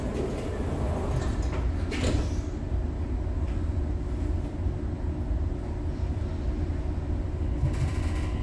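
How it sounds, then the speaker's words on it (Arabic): Dubai Metro train doors slide shut inside the carriage: a brief rattling slide stands out from the steady cabin rumble and hum, followed by a short clunk near the end. "Doors closing."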